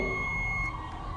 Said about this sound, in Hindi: तो यहाँ पर ये देखिए कितनी पिनें बीप साउंड दे रही है।